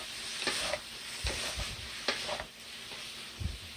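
Broccoli florets and caramelized onions stir-frying in a pan, with intermittent scraping stirs over a steady close sizzle, alone without talk.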